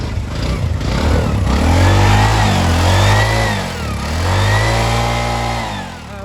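A used 210cc CNG auto-rickshaw engine revved with the accelerator, rising and falling in two or three loud, close surges over a throbbing idle.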